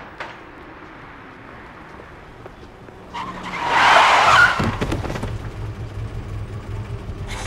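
A car's tires skid and squeal loudly in a hard braking, rising sharply then settling into a steady engine rumble.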